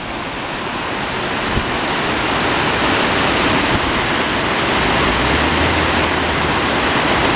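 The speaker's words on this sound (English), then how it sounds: "mini little water pouring." A small stream of water pours and splashes steadily nearby at an abandoned mill, a continuous bright rushing hiss with no voices.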